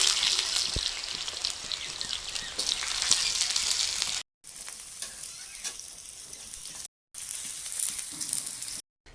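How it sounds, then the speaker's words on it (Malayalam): Carrot, capsicum and potato pieces fry in hot oil for maqluba, a dense crackling sizzle that fills the clip close up, broken by two brief silent gaps. "ക്യാരറ്റ് ക്യാപ്സിക്കം ഇതെല്ലാം ഒന്ന് ഫ്രൈ ചെയ്തെടുക്കാം കിഴങ്ങും ഒന്ന് ഫ്രൈ ചെയ്തെടുക്കാം"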